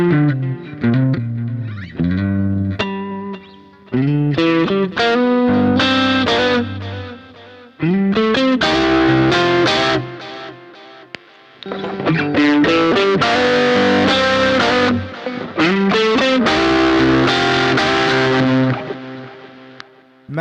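An electric guitar plays with the Tube Screamer overdrive pedal switched off. Chords and riffs come in loud phrases separated by brief gaps, and a bit of grit still sits on the tone.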